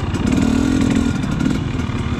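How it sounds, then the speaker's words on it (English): A 2019 Honda CRF 450L dual sport dirt bike engine runs loud and close with a steady, rough buzzing drone that rises briefly in pitch before settling back. "riding a 2019 CRF 450L, which is a bike that's kind of on my radar"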